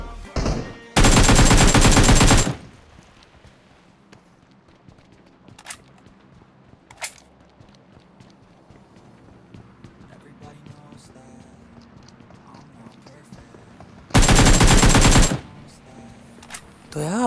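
Automatic gunfire in PUBG Mobile comes as two loud, dense bursts, one near the start and one near the end, with quieter game sounds and a voice talking between them.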